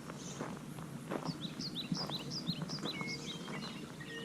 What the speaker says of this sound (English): It is really quiet around here, except the birds.